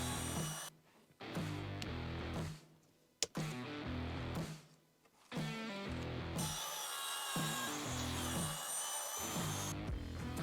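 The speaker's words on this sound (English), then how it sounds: "but a circular saw will work just fine." A circular saw cuts plywood for garage shelves, with loud whining cuts broken by brief stops and restarts before a longer continuous run, all close and without speech.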